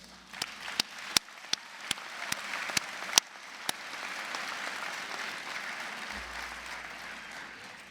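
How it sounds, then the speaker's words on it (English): Audience applause at a GED graduation, opening with a few distinct single claps that swell into a steady, moderately distant crowd applause. "Let's give everybody a round of applause."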